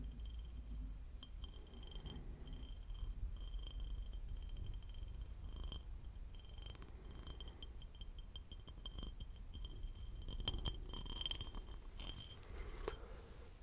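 A voice imitates a cat's purring, pitched a little high, as a soft continuous close-up rumble with faint crackles and no talking.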